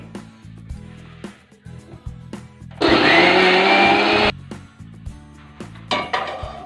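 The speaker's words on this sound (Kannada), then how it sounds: "ಸ್ವಲ್ಪ ನೀರು ಹಾಕೊಂಡು ರುಬ್ತಾ ಇದ್ದಾರೆ" A kitchen mixer grinder whirs loudly for about a second and a half as it grinds tomato masala with a little water, set between clinks of utensils and background music.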